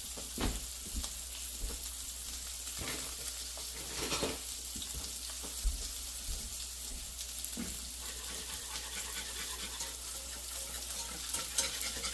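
A whisk scrapes and taps in a pan as flour is worked into melted butter. Soft irregular strokes sound over a quiet steady sizzle, close and low in level, with no talking.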